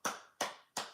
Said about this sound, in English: I feel like clapping.